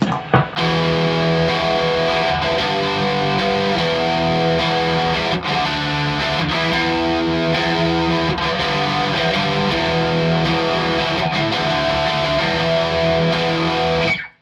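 A loud, thick, distorted electric guitar through the lead channel of a 1993 Peavey 5150 amp with gain turned up plays sustained chords and riffs with heavy gain, steady throughout before stopping sharply.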